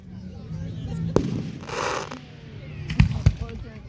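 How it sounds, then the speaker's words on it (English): Fireworks at a small-town show, with a sharp bang followed by a burst of crackling, then two more loud close reports near the end, against a background of faint crowd noise. "We don't got a good fireworks show."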